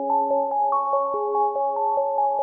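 Synth main melody of a trap beat pitched up an octave plays a bright, steady stepwise line of evenly spaced notes, clean and alone at moderate volume.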